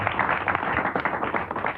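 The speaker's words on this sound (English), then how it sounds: "Give them a nice round of applause" A studio audience breaks into a short round of applause, steady dense clapping that stays fairly loud from start to finish.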